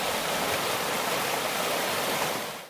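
A creek flowing through Green Valley in Capitol Reef National Park, Utah, makes a steady, close rushing of water that holds even throughout, with no voices over it.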